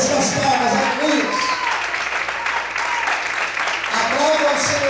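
A church congregation claps together in steady, dense applause that fills the room, with voices calling out over the clapping throughout.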